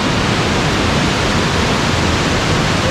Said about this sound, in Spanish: Vean la cascada que está ahí